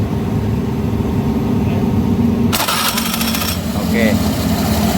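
A Honda Beat FI scooter with a faulty electric starter runs loud and close. A burst of harsh cranking noise rises about halfway through before the steady engine sound carries on, with speech faintly present.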